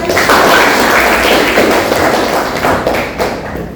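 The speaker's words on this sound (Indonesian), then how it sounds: "Kita beri tepuk tangan dulu." Students in a classroom clap together for a correct answer, a short loud burst of close, thumping applause that tapers off toward the end.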